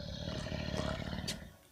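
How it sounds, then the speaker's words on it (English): A giant lion roars in a sustained, loud, dense rumble close by for well over a second, then tapers off at the end. "Giant lion."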